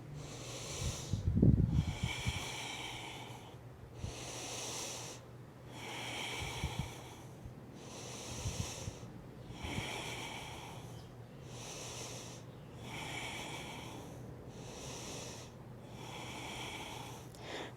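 Deep, slow breathing held in a yoga forward fold, a steady cycle of about eight long airy inhales and exhales, close and clear over a faint low hum, with no talking.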